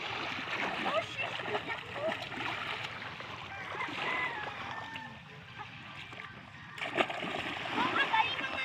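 Children splash and play while bathing in clear, shallow water outdoors, with steady close sloshing and splattering throughout and a sharper burst near the end, while people talk and shout over it.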